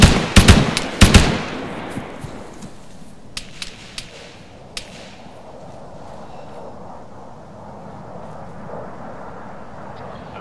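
Gunfire during a Canadian army training exercise: a quick burst of sharp loud cracks at the start, then scattered single shots over a low rumbling background.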